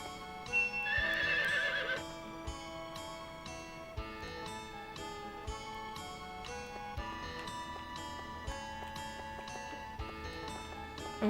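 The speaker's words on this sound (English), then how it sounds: "Another horse." A horse in the video game Harvest Moon 64 lets out a short, bright whinny near the start, followed by a light clip-clop of hooves and ticking game sounds under steady background music, with no talking.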